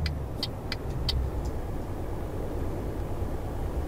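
Steady engine drone of a truck overtaking a car in Euro Truck Simulator 2, a constant loud hum with a few faint high blips early on.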